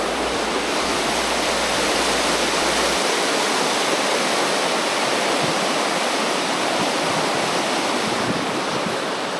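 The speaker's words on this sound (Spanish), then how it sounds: "esta agua va cayendo de los glaciares que están allá arriba" A glacial waterfall in Lauterbrunnen, Switzerland, pours down cliffs as a dense, continuous roar, loud and close throughout.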